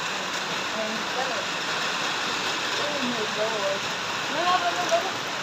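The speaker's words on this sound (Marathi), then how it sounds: "बघा आमच्या पुण्यामध्ये किती पाऊस चालू आहे" Steady, dense rain hisses continuously on a terrace in Pune, loud and unbroken, with faint indistinct sounds beneath it.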